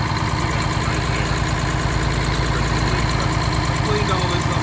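A Detroit Diesel engine in a Loadstar truck idles with a leaking exhaust manifold, giving a loud, steady rumbling drone with a rapid ticking pulse throughout, close up and with no voices.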